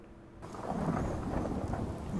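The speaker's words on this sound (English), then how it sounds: "It's dark, it's rainy, it's lightning." Thunder rumbles over steady rain in the video game Fallout 4, a dark stormy wasteland night, a loud broad roll starting abruptly and sustained under the downpour.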